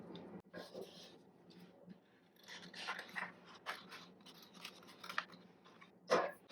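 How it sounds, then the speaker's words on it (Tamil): Scissors snipping through a paper churidar pattern along the inner curve, a series of short crisp cuts and paper rustles at close range, with one sharper snip near the end; no speech. "இப்படி உள்பக்க வளைவை வந்து கட் பண்ணிக்கலாம்."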